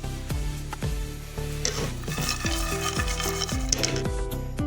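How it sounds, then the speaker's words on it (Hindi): Dry fruits and nuts fry in a spoonful of oil, a low crackling sizzle broken by repeated scraping and clinks of a spoon against the pan as they are stirred. "अब इसमें तमाम मेवाजात को फ्राई कर लेंगे।"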